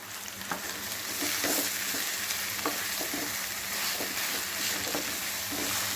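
Potato filling with chili flakes, meant for stuffing capsicum, fries in a pan while being stirred, steady close sizzling hiss with soft scraping knocks of the spoon at irregular intervals.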